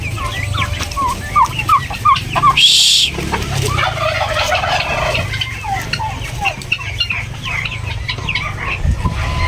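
Hybrid turkeys gobble in rapid rippling bursts among other poultry clucking, loud and close over a constant low background rumble.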